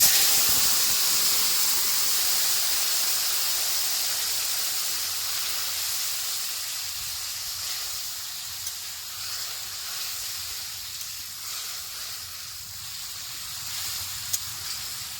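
Rohu fish pieces and masala, with cinnamon and black cumin, hit hot oil in a wok on a village stove: a loud, dense sizzle and hiss that starts strong and slowly eases over the clip, with no talk.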